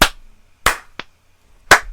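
A group claps in unison after a spoken countdown, each clap a sharp, loud burst, with three or four separate claps spaced unevenly across the moment and silence between them.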